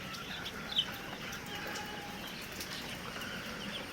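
Five-day-old chicks under a building's roof, warm inside on a cold day, give faint, scattered peeps over a steady low background hiss, with no talking.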